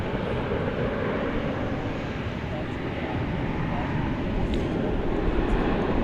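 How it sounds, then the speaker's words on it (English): An American Airlines Airbus A321 taxiing at DFW Airport at night makes a steady, moderately loud engine rumble and hiss that holds constant throughout, with a faint voice talking now and then. "Flight 1739 American Airlines is on the move. Don't have a destination for this Airbus A321."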